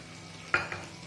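Ghee poured onto browned frying chicken for chicken kalimirch brings a sudden sizzle burst that quickly fades back into low, steady frying, close and brief.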